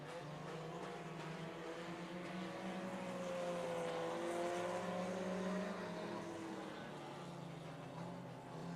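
Four-cylinder race cars roar around an oval track on the final lap of a feature race, a continuous buzzing engine drone from a distance with pitch rising and falling as the cars take the turn.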